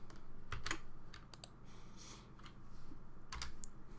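Close, quiet computer keyboard typing with a scatter of clicky keystrokes while a command is entered, ending in a firmer key press for enter.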